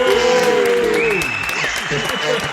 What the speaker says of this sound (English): Introducing, round of applause for Mike Wells.